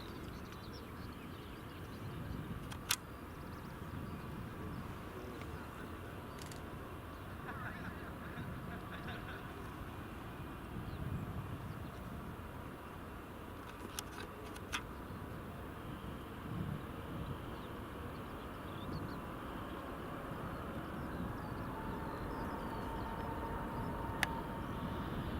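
A Global Airlines Airbus A380 registered 9H taking off from Glasgow Airport bound for JFK, with a continuous low, rumbling engine roar heard from a distance, holding steady and swelling slightly toward the end, with occasional faint clicks.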